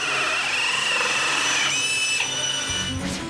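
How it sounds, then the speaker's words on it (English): Power drill boring the plug hole through an acrylic bath, a steady high whine that holds for nearly two seconds, shifts pitch, then winds down near the end, alone without talk. "Did you hear the sound of the drill as it made the plug hole?"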